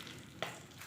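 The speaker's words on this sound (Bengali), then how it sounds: "এবার ওই তেলেতে গোটা গরম মশলা, শুকনো লঙ্কা আর গোটা জিরে আমি ফোড়ন দেব।" Whole garam masala, dried chillies and cumin seeds frying in oil, a very faint brief hiss with a single soft tap, no speech.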